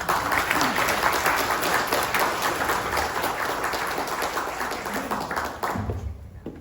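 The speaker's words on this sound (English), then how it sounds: "Let's give another round of applause for Eugene" A round of applause from an audience at a chamber of commerce membership meeting in Guam, steady and full for several seconds before thinning out and stopping near the end.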